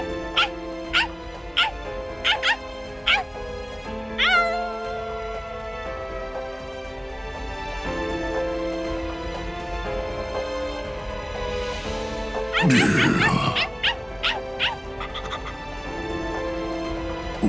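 Dog in the video game Bleach: Rebirth of Souls gives a run of short yips and barks at the start, again near the middle and toward the end, set against game music and character voices.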